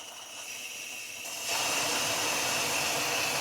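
A steady hiss of water spraying from a residential fire sprinkler head jumps louder about halfway through and then holds as a broad, continuous rush.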